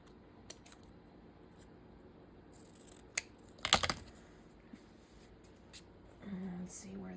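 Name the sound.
trimming white paper off a stamp cut-out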